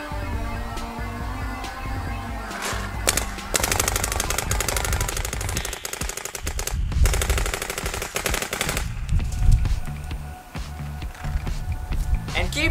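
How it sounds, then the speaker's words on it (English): A paintball marker fires in fast repeated bursts of sharp popping shots on a paintball field, loud and close, with a voice speaking at times between the volleys. "take the first two shots slow so that you can see where your paint's going, and then once you know that you had that shot, then you start going at it"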